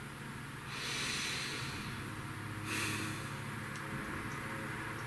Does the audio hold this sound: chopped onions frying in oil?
no